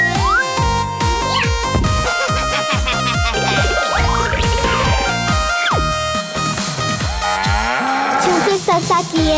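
Cartoon cow moos sound within an upbeat Vietnamese children's remix song about a calf, mixed into a loud, busy backing track of synths and beats throughout.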